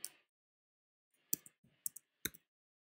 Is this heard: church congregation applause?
no